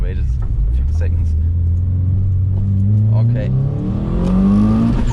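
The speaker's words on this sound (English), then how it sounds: "So now we do a full throttle again on the straight." A tuned car engine revs up steadily at full throttle on a track straight, its pitch climbing as it accelerates hard, with a brief spoken word near the start.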